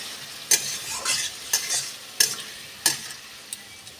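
Bean curry stirred in a pan over low gas, a soft constant sizzle broken by five or six sharp scraping strokes about a second apart, close and clear with no talking.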